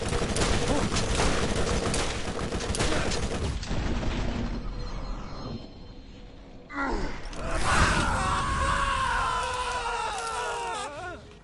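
Gunfire from the video game Borderlands rattles in a loud, dense burst, then drops to a quieter stretch. Screams and shouting voices follow over the action.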